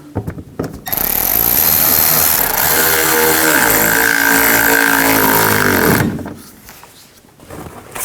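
A power tool whirs loudly and steadily for about five seconds, driving screws into a parking light on a 2009-2017 Chevy Traverse, its pitch shifting as it loads, with brief handling noises before and after.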